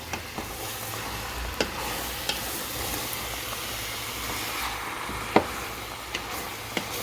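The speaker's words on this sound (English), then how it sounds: "I'm gonna stir it up." Collard greens are stirred in a pot as they cook, with a soft steady simmering hiss and occasional clinks and scrapes of the utensil against the pot, all close and without talk.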